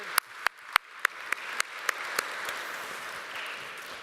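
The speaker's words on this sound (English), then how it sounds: "A big round of applause for the panel." Applause for a panel at a crypto conference summit starts with a few sharp, evenly spaced claps and then grows into a steady wash of crowd clapping at moderate volume.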